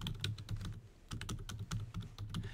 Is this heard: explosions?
no